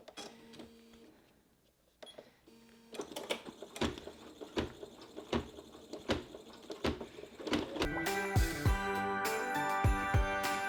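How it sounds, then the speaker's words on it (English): An embroidery machine stitches a design on vinyl, starting with a few soft clicks and then building into a fast, rhythmic mechanical tapping that grows louder and denser toward the end. "So I'm actually stopping the machine before it goes on to the next part."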